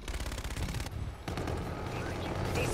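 Rapid automatic fire from a Type 2 rifle in a shooter game, a fast, dense rattle of close shots that pauses briefly and then resumes as continuous fire to the end.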